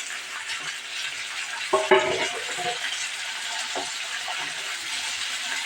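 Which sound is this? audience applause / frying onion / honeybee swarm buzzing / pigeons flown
frying onion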